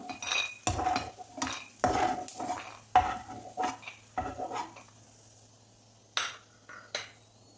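A spoon scoops fried chickpeas from a pan in a series of distinct metallic scrapes and clinks, spaced irregularly, with a faint low hum underneath and quiet gaps between strokes.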